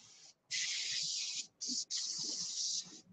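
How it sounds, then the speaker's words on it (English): Spray gun applying orange paint to an airplane, three long steady hissing bursts separated by short pauses, close and loud with faint low background noise. "When you're spraying these airplanes, you have to get it wet enough that it bonds from one layer to the next."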